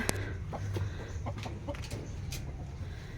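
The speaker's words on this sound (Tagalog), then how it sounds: "Ayan, yung manok namin sa likod." Chickens cluck softly nearby in short, scattered bursts over a low background hum.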